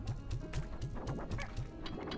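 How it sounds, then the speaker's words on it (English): Flock of about eleven chickens in the video game Slime Rancher, clucking in a steady, regular rhythm of short repeated calls over a busy background of game sounds. "look at all those chickens"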